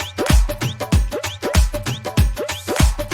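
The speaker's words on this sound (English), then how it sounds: "with the Western and like Indian drums, both of the drums together sounds like this." A beat layering Western and Indian drums: deep booming hits with bending tones and crisp hand-drum slaps in a busy, driving rhythm, loud and continuous.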